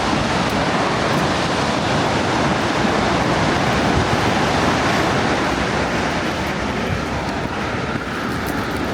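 Multnomah Falls in Oregon roars on a foggy day, a dense, steady broadband rush of falling water with no pauses, loud and constant throughout.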